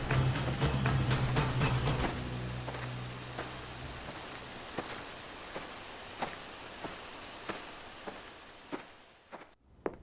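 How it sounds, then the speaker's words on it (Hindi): Heavy storm rain pours steadily on a surface, with a low rumbling undertone easing after a few seconds and scattered sharp drips and taps continuing to the end; no voices. "जोरदार बारिश होने लगी।"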